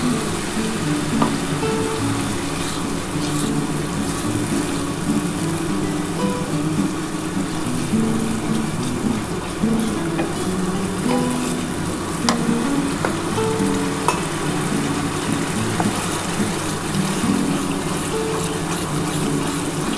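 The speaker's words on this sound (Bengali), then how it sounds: "বুঝলে এবার আমি মশলার জলটা দিয়ে দিচ্ছি।" Spice water poured into a pan of frying katla fish curry sizzles and bubbles loudly and continuously, a close, steady hiss with faint scraping stir sounds now and then.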